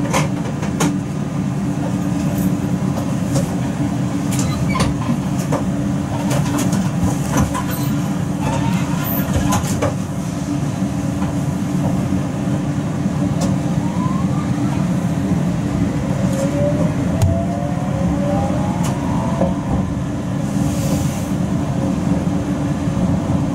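Steady, loud rumble of a London Underground District Line train running, with thin metallic squeals rising and fading over the constant roar.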